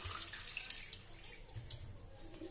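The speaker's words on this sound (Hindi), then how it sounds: "एक गिलास पानी डालेंगे" Water is poured from a glass into flour for dough, a faint close splashing trickle running steadily for a couple of seconds with no talk.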